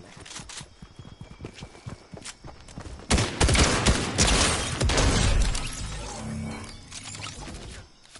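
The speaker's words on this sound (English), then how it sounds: "Oh, he's shooting at him." Video game gunfire from Fortnite: rapid bursts of sharp shots in the opening seconds, then a louder, denser barrage with crackling impacts from about three seconds on, tapering off toward the end.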